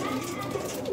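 Sialkoti bateray pigeons cooing in a short, steady low murmur, with a continuous hum of birds close by and no clear talk.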